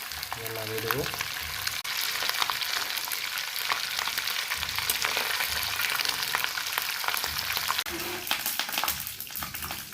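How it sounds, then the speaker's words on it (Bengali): Close, steady sizzling of desi magur catfish frying in a pan of hot oil, with crackling spatters, a brief clatter near the start and a faint voice murmuring in the background. "হয়ে গেল আমার মাছ ভাজা"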